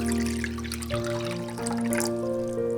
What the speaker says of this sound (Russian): От 1 литра я отолью где-то 200 грамм